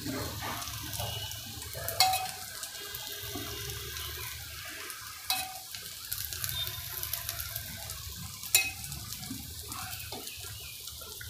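Corn appam batter cooking in ghee in an appam pan, a faint steady sizzle and bubbling with a few soft clinks and taps from utensils, quiet and continuous with no voices.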